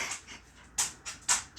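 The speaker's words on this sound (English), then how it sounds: "That's my old dog, Joji." An old dog pants close by in quick, breathy huffs, three or four uneven bursts separated by short pauses, with no talking.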